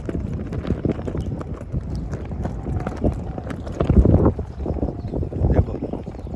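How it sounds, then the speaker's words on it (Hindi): Strong wind roars across the microphone while flags flap and snap in rapid, irregular bursts, loud and close, with a gust swelling toward the middle. "इतनी आवाज़ करते हैं ये झंडे जो यहाँ पे लगे हुए हैं"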